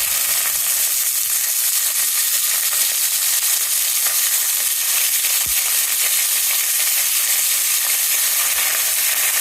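Vegetables such as beans, carrot, bottle gourd, capsicum and pigeon peas fry in a pan while being stirred, giving a steady continuous sizzle with a faint scrape or two and no talking.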